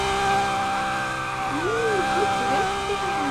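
A Lamborghini Aventador SVJ drifts in the driving game Driving Empire, its engine droning steadily with wavering pitch sweeps as the tires slide, while a person talks over it.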